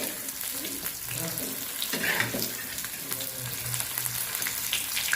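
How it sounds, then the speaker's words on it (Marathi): Fish frying in hot oil in a pan keeps up a loud, continuous sizzle as the pieces are flipped, with light clatter and a faint voice in the background. "मासे आता चांगले शिजल्यात आता पलटी करते"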